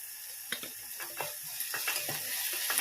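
Onion and green chili sauté in a pan for capsicum thoran with a soft, low sizzle, punctuated by light scraping strokes of a spoon stirring at a moderate pace.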